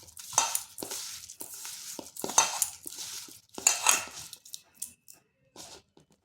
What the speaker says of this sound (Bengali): লবণটা ভালোভাবে মিশিয়ে নিচ্ছি।